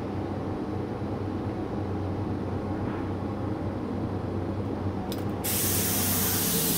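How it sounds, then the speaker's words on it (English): A Binks 2100 industrial spray gun sprays in a steady, loud hiss of compressed air that holds constant throughout, growing slightly fuller near the end. "I can really control my spray right in the trigger of the gun, real small to real big"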